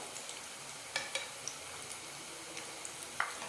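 Bottle gourd balls frying in a pan on medium flame, a constant soft sizzle broken by light ticks and clicks as the balls are turned, no voices.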